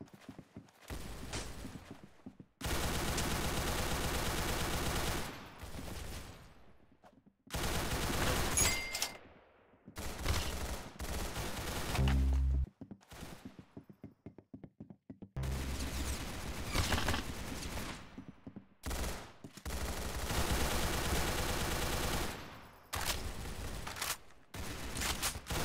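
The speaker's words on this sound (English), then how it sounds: "Very good shooting." Gunfire in the Roblox shooter game Arsenal comes in dense, loud bursts of rapid shots separated by short silent gaps, with several clusters of fire across the stretch and no voices.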